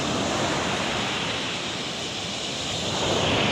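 Ocean surf rolls steadily onto the beach at La Union, a loud, continuous wash of breaking waves with a windy hiss and no talk.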